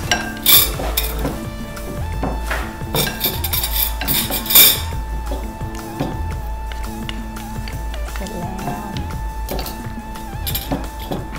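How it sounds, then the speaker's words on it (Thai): Salmon salad ingredients tossed together in a bowl, giving a steady stream of clinks and scraping of utensils against the dish, close and fairly loud, with no talking. "ใส่แล้วคลุกเลยค่ะ"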